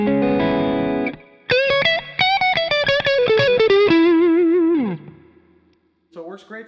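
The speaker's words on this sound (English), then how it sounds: "it does sound really nice with a mild overdrive at the input" Electric guitar through a J. Rockett Boing spring reverb pedal with mild overdrive at the input plays a short phrase of sustained, gritty notes, each trailing into a springy reverb tail before a brief final lick.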